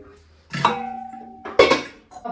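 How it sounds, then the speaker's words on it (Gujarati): A metal cooking pot is picked up and set down for water, giving two ringing clanks about a second apart, near and clear in a quiet kitchen. "તો પહેલાં આપણે તપેલી લઈ લઈએ અને એમાં 1 ગ્લાસ પાણી નાખશું."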